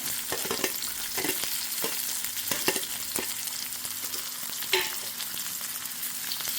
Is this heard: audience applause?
no